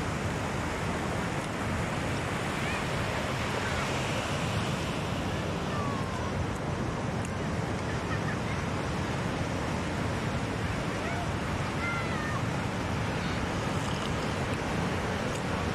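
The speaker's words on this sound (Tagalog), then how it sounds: "Ito palang Bagasbas Beach, mga kalakbay." Ocean surf and steady wind roar continuously at Bagasbas Beach in Bicol, a surfing spot, with constant broadband wash of waves and gusty wind noise buffeting the microphone throughout.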